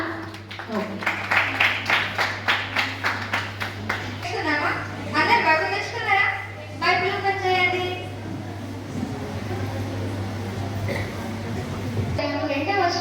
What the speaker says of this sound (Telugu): మనం గట్టిగా క్లాప్స్ కొడదామా?